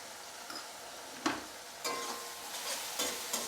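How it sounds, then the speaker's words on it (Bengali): Sliced onions frying over medium heat in a pan, a soft steady sizzle broken by a few scraping stirs of a spatula, close and fairly quiet, with no voices. "আমি মিডিয়াম করে পেঁয়াজটা ভেজে নেব।"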